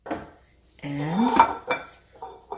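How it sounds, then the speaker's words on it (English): Cabbage and carrot simmered in chicken broth being dished up from a Ninja Foodi pressure cooker pot, with a few scattered clinks and scrapes of utensils against the pot close by. "dish up some of that cabbage and carrot that's been simmering in the chicken broth"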